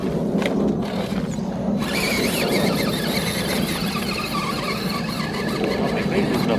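An engine revved at full throttle, a loud, dense, continuous roar with a squealing edge that holds steady throughout, close to the listener.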